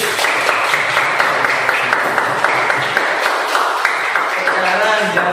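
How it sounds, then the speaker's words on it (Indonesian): Steady applause from a class of Indonesian schoolchildren for a student who has just answered, a continuous dense patter of claps running the whole time beneath children's chatter and voices. "Tepuk tangan untuk Mas Adit."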